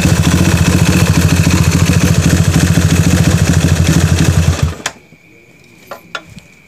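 A Honda CB100 motorcycle bored out to 208cc idles close up with a steady loud rumble and rattle, then cuts off abruptly, leaving near silence with a few faint clicks.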